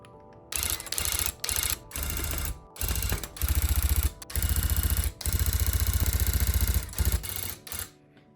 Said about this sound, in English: things kind of go better when I let the gun move itself up